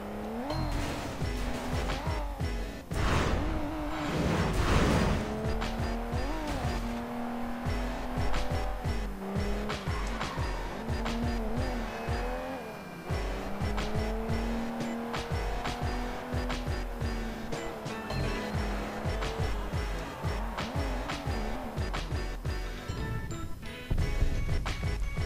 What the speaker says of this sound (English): Oh, this is a street race.